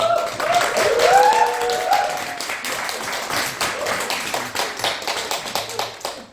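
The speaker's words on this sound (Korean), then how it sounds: "우리 조현태 임원님이 박세경 자매님 일어나시며 우리 축복의 박수를 쳐들 들어봅니다" A church congregation applauds steadily for several seconds during a Sunday service, many hands clapping close by, with a brief voice near the start.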